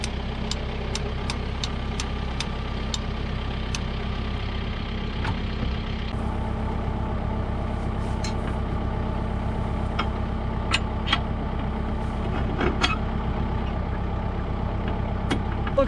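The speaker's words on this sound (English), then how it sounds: "we'll pull the tractor forward, and we'll back up, and we'll get positioned here to hook up this rake" A farm tractor's engine idles steadily and close up as it pulls forward and backs into place to hitch a homemade double hay rake. The low engine rumble is continuous throughout, with a few sharp metallic clicks and knocks on top.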